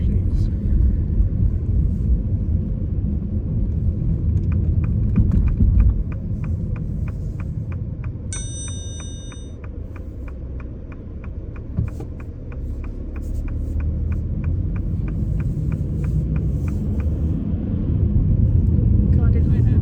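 A car's engine drones and rumbles steadily as it climbs uphill on a suburban road during a driving test, a low continuous hum inside the cabin that rises slightly toward the end, with a brief ticking indicator midway.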